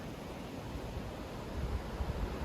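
Rough river water near a bridge in Honkajoki, Finland, at the end of summer washes in a steady low rushing hiss mixed with wind noise, swelling slightly toward the end.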